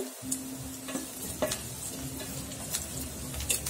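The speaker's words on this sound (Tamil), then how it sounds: "வெங்காயம் கொஞ்சம் வதங்கட்டும் இந்த வெங்காயம் கொஞ்சம் வதங்கணும்" Onions sautéing in a pan with curry leaves for a spicy Indian-style pasta: continuous close sizzle broken by occasional scraping stirs and light clinks, no talking.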